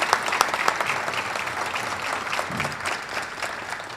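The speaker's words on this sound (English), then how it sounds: "Let's give the mayor a big round of applause." Audience applause for a mayor at a Sarasota County law enforcement awards ceremony, steady dense clapping from a crowd throughout, fairly loud and unbroken.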